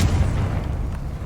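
A Confringo spell blast in the Hogwarts Legacy game, heard as a loud, deep rumbling boom that fills the short moment without fading.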